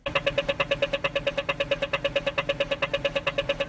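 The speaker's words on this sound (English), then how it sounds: "when the walk sign turns on, you hear this like rhythmic sound that I love and that Billie loved" An Australian street-corner pedestrian walk signal gives a fast, steady run of identical ticking beeps at an even rhythm, close and clear with no voices.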